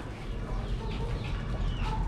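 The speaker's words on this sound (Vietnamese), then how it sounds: "Nuôi gà phát trứng đủ." Chickens cluck softly in a backyard coop kept for eggs, a steady busy murmur of short clucks near the listener with no talk.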